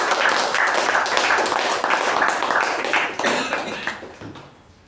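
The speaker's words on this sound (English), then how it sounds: "Let's give a huge round of applause to DTM MU Bhat for a fantastic" Members at a Toastmasters meeting applaud, a lively burst of many hands clapping that stays strong for a few seconds and then tapers off into scattered claps and quiet.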